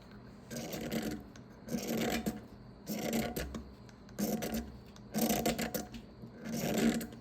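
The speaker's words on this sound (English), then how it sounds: "Just a few more of these shavings off this block." Shavings scraped off a cheap firesteel block in five or six rhythmic rasping strokes, each about a second long with short pauses between, close and fairly loud with no talk.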